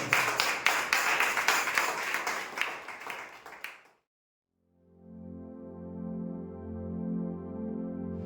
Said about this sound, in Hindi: आइए आपका उत्तम ताली केवल प्रभु यीशु मसीह के लिए जोरदार ताली बजाएं